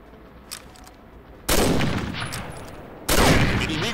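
Video game gunfire cracks out as two loud sudden bursts of rapid automatic shots, each sustained for over a second, following a faint tap earlier in the quiet.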